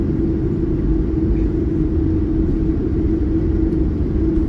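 Steady low engine rumble with a constant hum, continuous and even throughout, from inside a United Boeing 787-9 taxiing to runway 25 right at Los Angeles (LAX).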